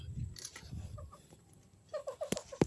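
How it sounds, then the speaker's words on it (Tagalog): Chickens cluck softly nearby, with a short run of quick clucks toward the end over quiet rustling. "Mga manok yan"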